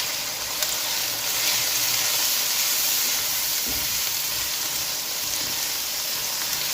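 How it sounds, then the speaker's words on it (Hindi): Turnip masala with tomato, salt and turmeric powder fries in a pot with a continuous close hiss and sizzle, a few soft stirring shifts and brief louder bursts partway through, and no one talking. "कुछ देर के लिए अच्छी तरह से भून लेना है ताकि इसका जो टमाटर वगैरह है वो सॉफ्ट हो जाए।"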